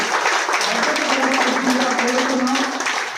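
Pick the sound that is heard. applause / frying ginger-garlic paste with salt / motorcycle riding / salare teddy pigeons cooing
applause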